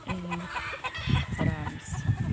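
Chickens cluck and squawk close by on a game farm, a busy scatter of short calls and a drawn-out crow-like cry, with someone talking intermittently among them.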